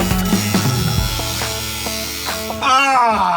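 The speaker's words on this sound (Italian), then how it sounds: "Ho quindi deciso di prendere il flessibile e di passare alle maniere forti." An angle grinder cuts through badly rusted metal on an old limousine, a harsh continuous whine with a few sharp clanks and scraping bursts, rising into a brighter screech near the end.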